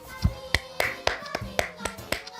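Sparse, uneven hand claps, about eight sharp separate strikes in under three seconds, close and fairly clear, heard during a Roblox Squid Game round.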